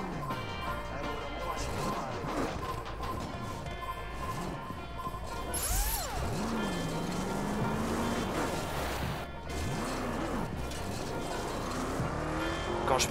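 Camaro racing in The Crew, engine revving up and down in repeated surges with tire squeal and a crash partway through, while someone talks over the driving.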